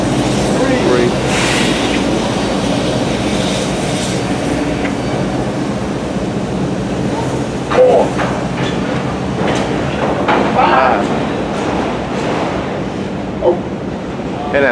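Norfolk Southern train 234 rumbles past with a steady wash of wheel and rail noise and scattered clanks, fairly close, while people talk faintly underneath.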